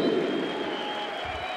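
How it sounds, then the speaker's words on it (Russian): Audience applauding at a figure skating exhibition gala, a dense steady wash of clapping from a large arena crowd, fairly loud and continuous. "Ваши аплодисменты, самые юные участники гала-представления!"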